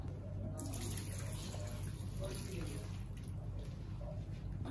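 Water poured gently from a bowl into a pot of rice for chicken maqluba, a continuous splashing trickle running steadily under quiet background noise.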